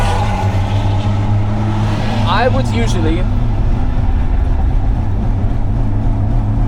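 A car engine revs hard under full throttle while being driven, a loud steady drone with a brief rising whine in the middle, and someone speaks over it.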